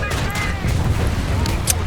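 A bomb explodes in the War Thunder battle, where the player drives a German Flakpanzer IV Ostwind anti-aircraft tank, heard as dense, continuous rumbling blasts with engine drone underneath and a bright crack near the end.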